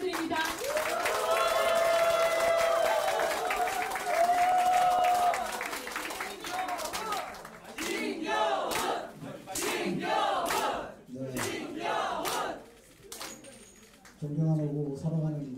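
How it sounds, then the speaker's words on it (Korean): Crowd applause and cheering at a Gangseo district election victory event for a candidate, loud and dense at first, then breaking into bursts of shouting and cheers with gaps, with voices calling out among the noise. "뜨거운 박수 부탁드립니다."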